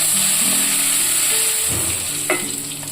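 Red chillies sizzle and crackle in hot oil with turmeric, asafoetida and curry leaves for a red chilli tomato pickle, a steady close frying hiss with stirring and a brief sharper crackle near the end.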